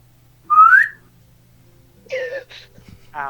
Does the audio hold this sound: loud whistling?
yes